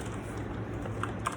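Soft, quick keystrokes on a pink gaming computer keyboard, a few faint clicks tapping close by in a quiet room.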